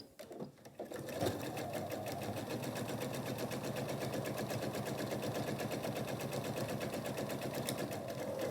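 A sewing machine stitches the fabric lining of a wine cozy, a fast steady mechanical whir with rapid needle knocking, close and loud after a brief start, no talk.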